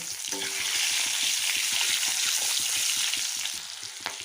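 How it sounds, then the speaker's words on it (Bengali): Onions hissing and sizzling in hot oil, a dense steady fry with rhythmic scraping of a spatula across the pan. "এর মধ্যে এখন আমি পেঁয়াজ কিছু একটু লাল করে ভেজে নেব"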